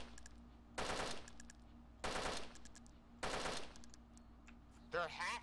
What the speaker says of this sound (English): I hear the gunshots.